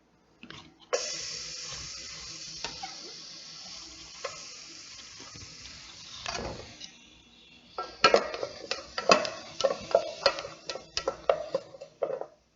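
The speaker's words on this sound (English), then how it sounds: "Sweat onions and garlic." Onions and garlic sweat in a pan for a French duck dish, giving a steady soft sizzle. Sharper clinks and scrapes of utensils on the pan cluster toward the end.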